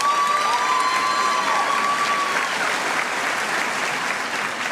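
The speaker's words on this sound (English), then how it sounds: "Let's give this group one more round of applause." A high school graduation crowd applauds in a large venue, with sustained dense clapping, a few cheers and a whistle near the start, then slowly thinning.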